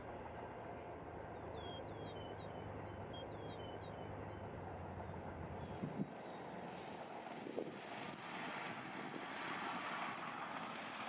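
A Piper Arrow 180 light propeller airplane lands on a runway, heard from outside as a steady, moderately distant engine drone with birds chirping early on and the tone shifting partway through.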